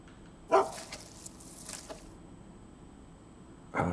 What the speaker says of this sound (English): I've got my dog with me.